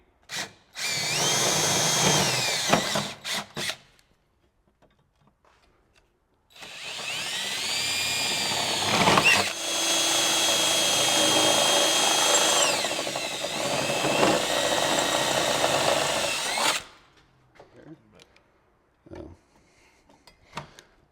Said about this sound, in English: We're gonna go through with a drill and drill each pilot hole